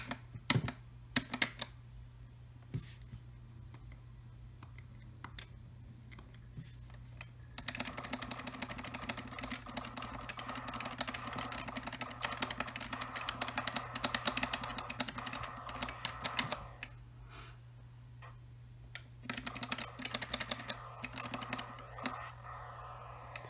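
A single button is clicked over and over during a computer game, leaving sparse taps and then denser bursts of quick clicks over a steady low hum, with no talk.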